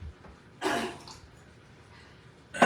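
Two separate coughs in a home kitchen during cooking, a loud close burst early on and another sharp one at the end, with quiet background between.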